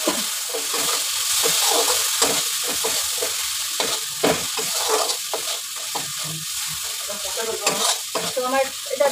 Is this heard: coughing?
no